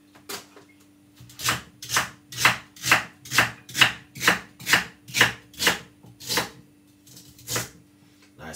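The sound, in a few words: chopping celery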